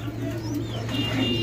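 A male pigeon coos softly in its clay nest pot at a pigeon seller's, a low murmuring call under steady background noise.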